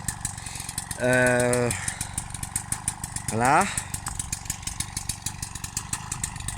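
A two-stroke motorbike engine running rich and smoky after a long time unused sits in a steady rhythmic idle throughout, with two brief revving tones rising over it and someone talking briefly.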